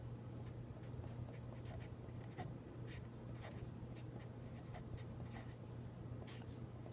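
A math equation is written out by hand, a steady run of pen or marker strokes scratching and tapping close up over a constant low hum, quiet and with no talking.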